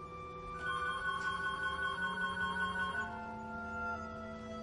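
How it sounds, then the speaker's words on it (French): A telephone rings at Dag's place, a steady electronic trill repeating in a clear tonal pattern and holding loud for several seconds, with no one speaking over it. "C'est le téléphone de Dag"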